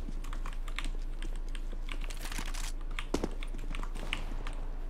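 Rapid, close clicking of a computer keyboard during a CS:GO match, continuous clattering keystrokes over a low steady hum, with no talking.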